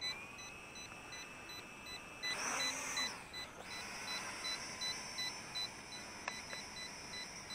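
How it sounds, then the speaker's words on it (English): A JJRC H55 Tracker drone gives a series of short, faint, evenly spaced electronic beeps over steady background hiss, with a brief louder rustle partway through. "It beeps twice"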